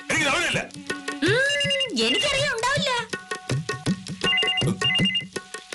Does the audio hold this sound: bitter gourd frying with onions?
no